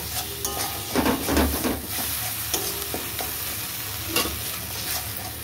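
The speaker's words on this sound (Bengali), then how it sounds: "টমেটোটাকেও ভালো করে কষিয়ে নেব।" Boiled tomato sautés in a pan with spices for ghugni, giving a continuous sizzle broken by clinking spatula strokes against the metal, with no voices present.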